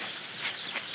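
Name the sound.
Lohmann Sandy laying-breed chicks clucking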